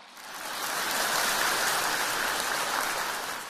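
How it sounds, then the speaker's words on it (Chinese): A Buddhist Dharma assembly audience in Macau claps together, a dense, steady wash of applause that swells in quickly and holds evenly for a few seconds before tapering slightly, with no speech over it. "鼓掌。"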